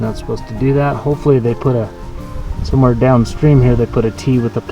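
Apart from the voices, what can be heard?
No everyday noises stand out.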